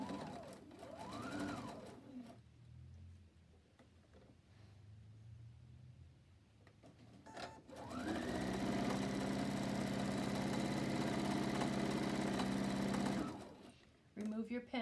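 A sewing machine stay stitches a jacket neck edge with a 3.0 stitch length: a brief whir, a pause with handling noises, then a sustained close, steady mechanical run for several seconds before stopping.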